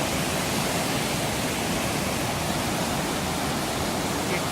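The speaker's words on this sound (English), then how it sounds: "look how hard this water is rushing in" Floodwater in a stream swollen by heavy rain, rushing hard in a steady, loud, dense roar that holds unbroken and close throughout.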